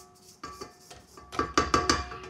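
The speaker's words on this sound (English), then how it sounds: "Scrape down in the bowl." A spatula scraping and knocking against a mixing bowl while making chocolate teacakes, with a series of short scrapes and taps that grow louder and come in quick repetition near the end.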